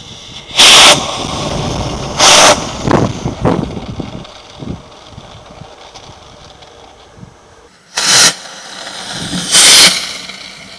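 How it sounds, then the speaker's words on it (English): Two size 3 model rocket motors on a hot rod model truck fire in loud, sharp hissing whooshes, four bursts spread across the stretch with quieter rustling and outdoor noise between them. "So for the next trial, I decided to go to 2 size 3 rockets."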